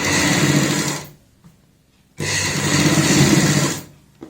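A sewing machine stitches a kurti neckline in two steady, loud bursts separated by a short pause, the motor whirring close and alone.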